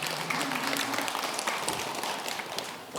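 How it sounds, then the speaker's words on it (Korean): A room full of people at a Sunday Buddhist service clapping steadily, dense overlapping claps at moderate loudness lasting the whole moment. "그러면 박수도 좀 치지."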